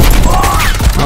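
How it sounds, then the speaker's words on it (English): Gunfire in the shooter Black Ops Cold War: a loud, dense, continuous burst of shots filling the whole moment, close and harsh. "Somebody shooting."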